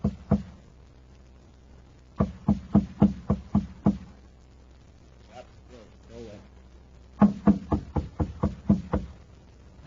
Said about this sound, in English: He knocks at the door.